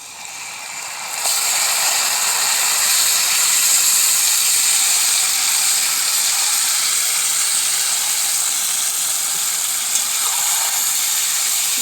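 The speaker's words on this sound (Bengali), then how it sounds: "পেঁয়াজ আমার ভালো করে ভাজা হয়ে গেছে, এবার মাংসর মাখাটা আছে ঢেলে দেব" Marinated chicken hits a pan of fried onions and sets off a loud, sudden sizzle that holds as a steady, close, hissing fry.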